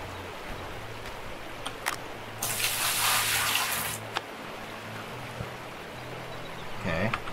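Water splashing as a pan is washed in the Gold Rush video game, a short burst of running, sloshing water in the middle, with faint clicks before and a brief sound near the end.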